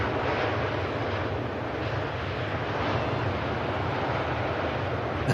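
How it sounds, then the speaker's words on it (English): Emirates Airbus A380 arriving from Dubai at Manchester Airport, a deep, steady jet roar with wind-like rushing that holds constant throughout, loud and without talk. "Emirates A380 in from Dubai"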